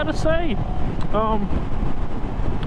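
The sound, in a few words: wind blowing into the microphone while riding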